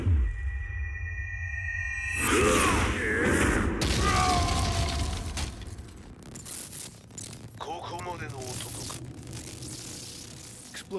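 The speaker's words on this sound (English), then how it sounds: "Explosion confirmed at the Mishima Dojo." An explosion at the Mishima Dojo in the fighting game Tekken 7, a heavy booming blast followed by rumbling debris and crackling, with a voice speaking in the middle of the turmoil.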